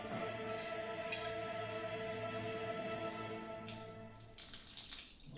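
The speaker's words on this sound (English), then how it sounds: "I can't tell if this is mead flowing or..." Home-brewed mead trickles and drips from a tube into a vessel, a soft continuous liquid flow with faint splashy drips, quiet and close, ending in a few sharper splatters.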